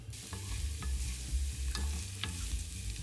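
Diced onions frying in oil in a pan, a steady close sizzle with occasional stirring scrapes and clicks, no talking.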